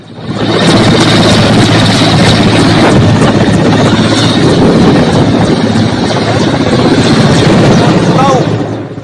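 A rescue helicopter carrying commandos gives a steady rotor and engine roar that fills the whole stretch, loud and close, with voices faintly mixed underneath.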